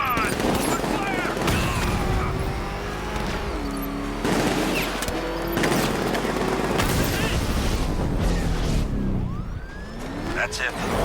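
Gunfire in the Batman: Arkham Knight video game, dense bursts of shots and impacts mixed with siren-like wails and engine noise in a loud, busy action scene, with voices shouting over it.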